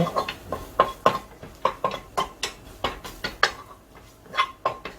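Chili powder being gently stirred into ramen in a pot with the heat off, soft irregular clinks and scrapes of a utensil against the pot, quiet and close with no talk.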